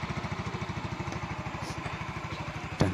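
Motorcycle engine running on a used laptop battery instead of a regular battery, a close, rapid, even putter that idles steadily and ends with a sharp clunk.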